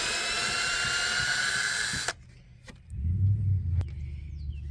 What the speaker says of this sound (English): We're pre-drilling holes 3/4 of the way over, 3/4 of the way up.